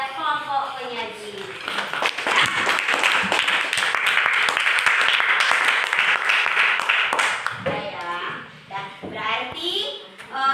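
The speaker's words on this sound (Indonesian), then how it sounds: "sekarang kita berikan aplaus dulu kepada kelompok penyaji" A classroom of children applauds a presenting group, a sustained burst of many hands clapping for about six seconds, with a teacher speaking before and after.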